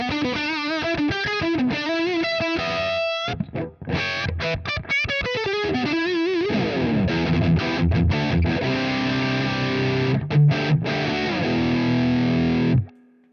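An electric guitar runs through an Angry Charlie distortion pedal with a noise gate, giving a saturated 80s rock tone: fast riffs and palm-muted chugs cut off sharply into silence, then ringing sustained chords, loud and close.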